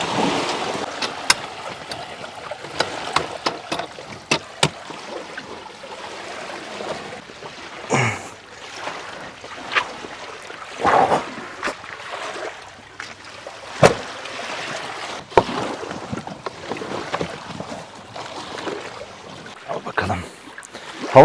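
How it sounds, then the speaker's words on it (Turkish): A small boat moves across a lake at a fishing camp, with steady water wash, wind and scattered sharp knocks and splashes against the hull over about twenty seconds, and no talking. "Bot gidiyor."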